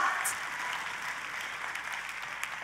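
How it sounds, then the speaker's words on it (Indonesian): Congregation at a church service applauding, a sustained wash of many hands clapping at moderate level, fairly even from start to finish with a few sharper claps standing out. "hari ini saya mau mendengar tepuk tangan yang paling meriah"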